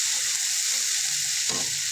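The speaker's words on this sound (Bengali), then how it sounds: "সামান্য পরিমাণে একটু আদা বাটা দিয়ে নাড়তে হবে।" Fish fries in oil with ginger paste while being stirred, a loud continuous sizzle filling the space with one brief scrape of the utensil near the end.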